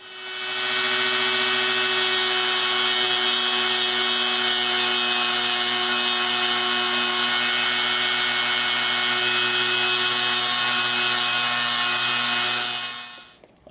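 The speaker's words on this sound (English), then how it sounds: "I'm going to use this rotary tool to open up the hole slightly to ease an installation" Rotary tool grinding out the bore of a steel pinion gear for a Redcat Ridgerock RC crawler, a steady high-pitched whine running unbroken for about twelve seconds before spinning down.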